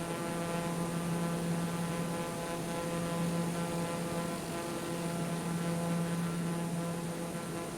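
A small single-engine propeller plane in flight, its engine a steady buzzing drone with strong tonal harmonics, heard continuously from inside the cabin at even loudness.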